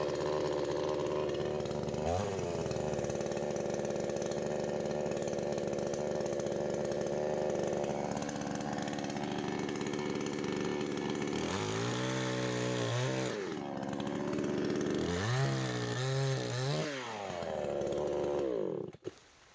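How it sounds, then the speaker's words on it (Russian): A chainsaw cuts into a rotten, storm-broken dead tree in an autumn forest, its engine droning loudly and steadily for most of the time, then revving up and down twice before cutting off at the end. "Сейчас буду пилить"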